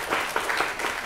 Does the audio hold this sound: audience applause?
yes